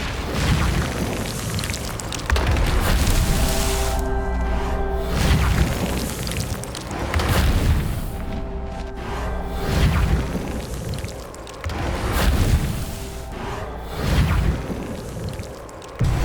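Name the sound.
spell effects cast in video game Hogwarts Legacy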